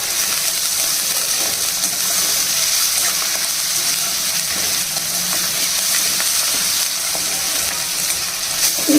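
Salted onion pieces frying in a pan make a loud, continuous sizzle and crackle, close up and unbroken, with a faint clink at the very end.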